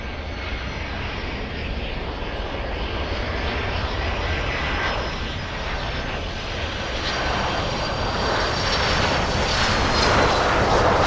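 A Delta airliner lands at Miami International Airport, its engine roar building steadily from moderately close to louder over about eleven seconds, with no voices.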